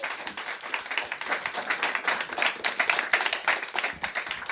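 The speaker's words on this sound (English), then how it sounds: "Big applause for the bands." Sustained audience applause after bands play at a live metal show, dense, steady clapping from a crowd close by with little talk.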